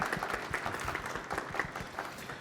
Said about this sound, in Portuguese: Palmas para a nossa convidada.